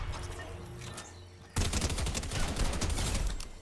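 In the game Fortnite, a Combat shotgun opens up partway through, firing a rapid string of loud, punchy blasts that continue to the end after a quieter stretch of game ambience.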